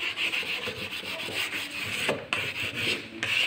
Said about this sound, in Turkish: Üşenmeden zımparalayacaksınız.